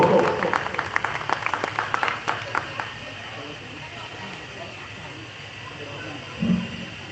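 An audience at a Dr. Ambedkar 132nd birth anniversary gathering claps loudly for a few seconds, the applause fading out by about three seconds into a low murmur of crowd noise and hiss.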